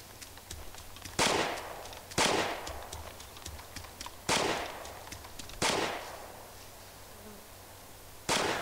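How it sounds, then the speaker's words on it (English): Gunfire in the World War II zombie sandbox shooter Iron Front: Liberation 44, five sharp, loud shots spaced irregularly about a second or two apart over a steady buzzing background. "Oh my god, shots."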